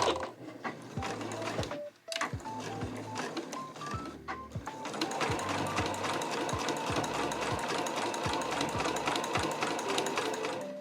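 A sewing machine stitches along the edge of small fabric scraps for a trunk-style key case, running loud and close in a fast, continuous mechanical rattle with brief pauses near the start before a long steady run.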